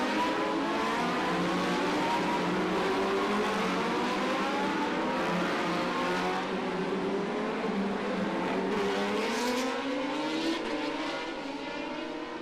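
Racing motorcycles tearing up San Francisco Hill on the warm-up lap of the 2023 Macau Grand Prix, a loud, sustained high-revving engine wail with overlapping pitch sweeps as several bikes pass close by.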